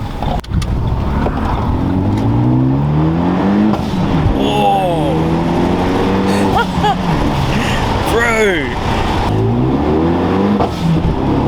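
Renault Megane RS250 Cup Trophee engine droning steadily up close from inside the car while driving, with rising and falling harmonic sweeps as revs change through gears, and someone talking over it.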